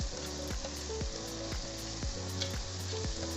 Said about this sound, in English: at this point you stir it and make it very light